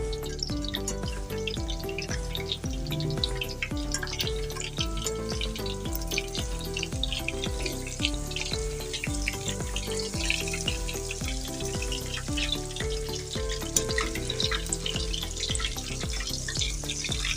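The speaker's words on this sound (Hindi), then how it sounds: "अब इस तरफ से भी हम अच्छी तरह से इसको पकाएंगे, फ्राई करेंगे।" Chicken for Lahori chargha fries steadily in a pan, producing a loud, continuous crackling sizzle that holds evenly for the whole stretch, with no voices over it.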